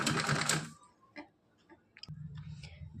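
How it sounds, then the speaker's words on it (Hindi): A sewing machine stitches a small dress for a Kanha doll, opening with a loud burst of rapid running, then pausing to scattered clicks and handling taps before a softer hum resumes. "अब इस पे लगाएंगे सिलाई इस तरह से। यहाँ पे सिलाई लगा लेनी है।"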